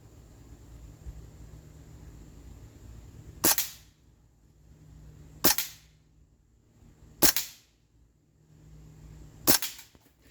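A Springfield Armory M1 Carbine CO2 blowback BB gun fires four sharp snapping shots at cans, spaced about two seconds apart, over a quiet outdoor background hum.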